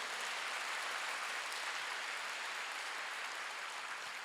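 Steady, dense applause from a large church congregation at a Wednesday service fills the whole stretch, even and sustained without pauses or voices.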